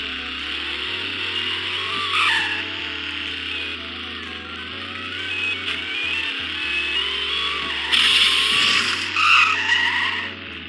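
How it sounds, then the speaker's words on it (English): A supercharged Jeep Trackhawk in the Roblox Greenville game gives a continuous high supercharger whine over a steady engine drone at high speed, with tire squeals bursting in at points and no talking. "that's what the car sounds like at high speeds"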